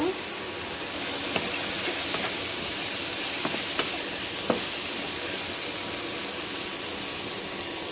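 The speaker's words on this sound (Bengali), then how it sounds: "এখন আমি নেড়ে দেব।" Broccoli with coriander and salt frying in a pan for shrimp pasta as it is stirred: a constant hissing sizzle broken by a handful of light spatula taps and scrapes, close by.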